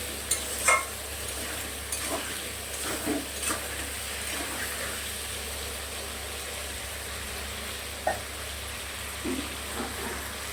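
Katla fish pieces fry in oil in a pan with a steady, close sizzle and crackle, broken by a few louder pops and scraping stirs, with no talking.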